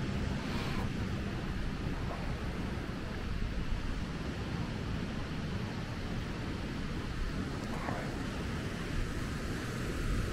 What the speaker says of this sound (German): wir haben wieder richtig schöne Wellen